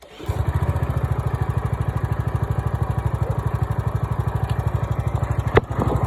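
A vibratory plate compactor's engine, started from cold, runs with a loud, steady rapid thumping pulse that continues without a break, with a brief clatter near the end.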